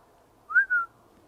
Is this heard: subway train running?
no